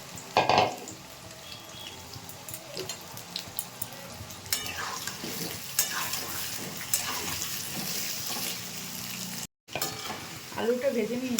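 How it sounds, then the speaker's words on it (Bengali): Potatoes fry in oil in a kadai with a constant crackling sizzle, punctuated by stirring scrapes and metal clinks against the pan, plus a brief gap of silence near the end. "এবার আলুটাকে ভেজে নেব"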